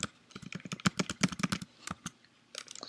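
Rapid, close-up clatter of keys on a computer keyboard, including taps of the Tab key, forms an irregular burst of sharp clicks with short pauses between runs.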